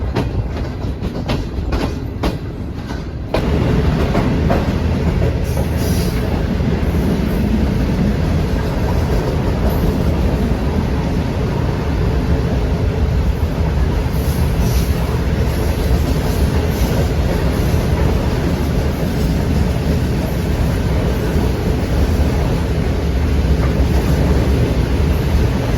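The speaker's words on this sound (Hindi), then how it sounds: "जा रही है हमारी ट्रेन।" The Shalimar Express from Karachi to Lahore rolls along the tracks, a loud steady rumble and rattle of carriages with faint rhythmic wheel clicks, a brief burst of clatter at the start before settling into a continuous drone.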